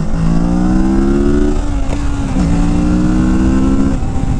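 A 2021 Kawasaki Z650 motorcycle engine is held at high revs before a wheelie, giving a loud, steady, buzzing drone close by. The revs dip briefly twice, then climb back.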